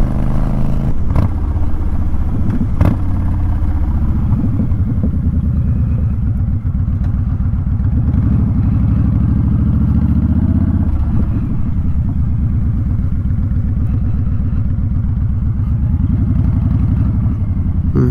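A Honda Fury motorcycle engine runs steadily and loudly up close, a continuous low rumbling throb with even pulsing texture and a few faint clicks, no voices.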